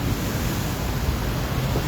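Rough, angry sea churning bottles ashore, a dense broad roar of waves with no distinct breaks, loud and close, with no voices.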